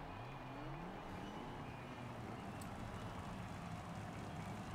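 A Lamborghini Countach with an A-class build in the racing game Forza Horizon 5 gives a continuous engine drone with rising gear sweeps early on, heard at moderate level without talk.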